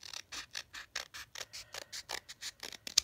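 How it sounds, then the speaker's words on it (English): Scissors trimming paper in a journal, a quick, even series of about fifteen crisp snips close to the mic, quiet and without talk. "Let me just trim that up because it got wonky."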